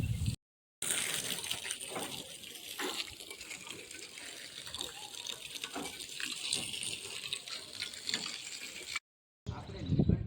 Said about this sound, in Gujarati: તો એ ક્યારુંના પાણી જ સાટે ચારે બાજુ બધું પલાળે મૂક્યું છે